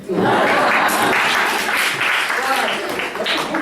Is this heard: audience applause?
yes